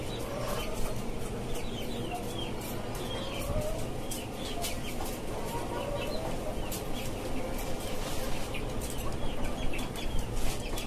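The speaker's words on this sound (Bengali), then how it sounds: "এখানে আছে আরো কিছু দেশি মুরগি।" Native chickens in a cage-system poultry farm cluck and chirp continuously, a dense, busy layer of overlapping fowl calls with no talk over it.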